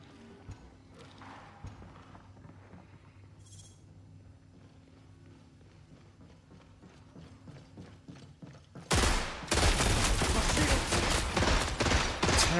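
Loud rapid burst of gunfire in a video game, a dense continuous volley bursting in after a quiet stretch of faint game sounds, with no talking.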